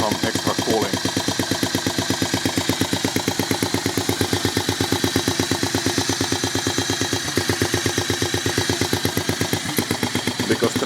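A homemade four-stroke engine runs steadily, its rapid, even firing pulses forming a loud, mechanical chugging rhythm that continues throughout without talk.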